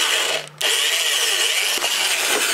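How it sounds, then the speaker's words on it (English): A power drill boring air holes in a container for snakes, a loud, steady, high whirring whine close by that cuts out briefly and restarts. "We need to drill in some air holes to make sure the snakes have fresh air coming in and hot air going out."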